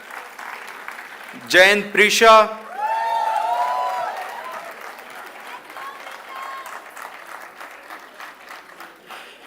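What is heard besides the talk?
applause for graduating students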